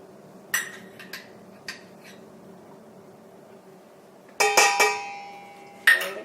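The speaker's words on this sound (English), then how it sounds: "now I'm going to add the garlic and the green onion" Garlic and green onion go into a cooking pan with a few sharp metallic clinks and clatters of utensil against cookware, close by and separated by quiet stretches.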